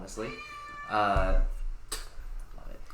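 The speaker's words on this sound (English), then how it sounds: "Excuse the cat in the room." A pet cat meows indoors, harmonic cries rising and falling several times, near and clear, while people talk in the room around it.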